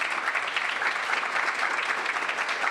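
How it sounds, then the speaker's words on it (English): A banquet audience at a fall sports event gives the school custodians a round of applause, with dense, loud, even clapping from a crowd that sustains throughout. "you want to go ahead and give them a round of applause?"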